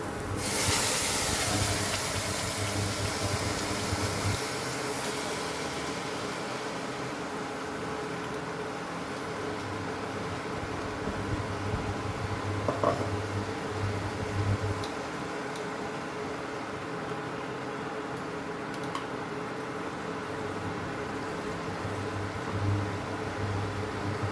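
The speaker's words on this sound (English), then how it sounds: "We'll fry the masala for a while." Goan masala frying in a pan for a seabass curry, giving a steady soft sizzle and hiss with a brief louder burst at the start.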